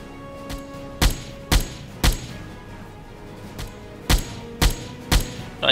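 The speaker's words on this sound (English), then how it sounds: "So, anti-aircraft gun." Heavy anti-aircraft gun firing in the video game Silent Hunter IV, in sharp, evenly spaced bursts, about eight loud booming shots over a few seconds against a steady low background hum.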